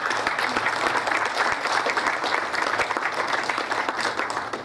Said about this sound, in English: A warm round of applause for Prakash.